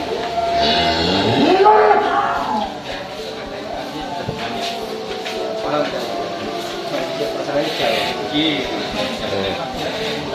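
A cow moos once, fairly close, amid a busy livestock setting during a late-night search for a sacrificial animal, with people talking around it and steady background noise.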